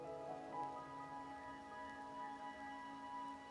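Steady night rain in the video game Wuthering Waves, a continuous even patter that holds at one level throughout, with soft sustained musical tones layered underneath.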